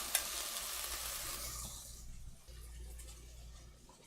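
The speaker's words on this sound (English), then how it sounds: "we'll get the garlic going in here too" Garlic sizzling in a pan for a barley, sausage and kale stew: a broad, bright hiss that is strong at first and then settles into a quieter, low sizzle.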